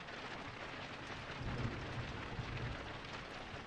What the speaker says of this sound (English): in certain sections we have rain come in just to add to that ambience